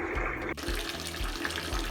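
Cold water pours steadily from a tap into a bath, a close, continuous rush with a soft rhythmic music beat pulsing underneath.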